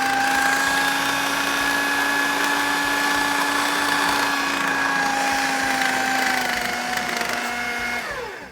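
A food processor whirs loudly and steadily, mixing crumb with egg, its motor holding a constant high whine for several seconds before spinning down at the end.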